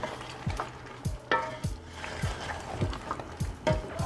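Tomato paste frying over a high flame for chicken korma, with a steady sizzle broken by repeated scraping stirs that land about every half second, close and fairly loud, with no talking.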